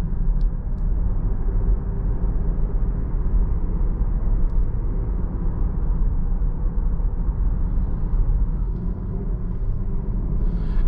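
Inside a 2022 Jeep Grand Cherokee on the move, road noise forms a soft, even, low rumble that holds steady and hushed throughout, with no voices.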